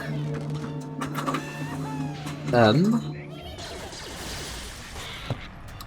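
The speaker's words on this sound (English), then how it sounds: "I don't know if you can hear the printer running" An office printer runs with a mechanical whir behind bright electronic tones and effects from an Angry Birds Star Wars game.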